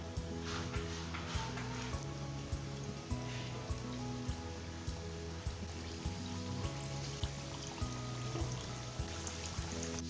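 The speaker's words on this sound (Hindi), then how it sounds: "अब हम इस लौंग लता को तेल में डालेंगे।" Laung lata sweets sizzle and crackle as they fry in hot oil, a steady dense bubbling hiss with scattered sharp pops, close and continuous with no talk, under a faint background hum.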